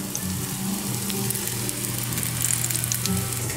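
Pistachio nuts sizzle in a hot pan as a steady, close frying hiss with small crackles.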